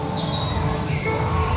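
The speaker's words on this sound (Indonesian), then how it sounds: "Banyak burung nih." Many birds chirp in thin, high calls scattered over a loud, steady crowd-and-ambient wash at a dinosaur exhibit park, the calls faint and partly buried in the background noise.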